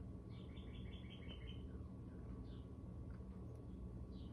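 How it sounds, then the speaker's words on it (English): Birds sing outside, a quick run of bright repeated chirps followed by scattered tweets, faint and distant over a low steady background hum. "You hear the birds?"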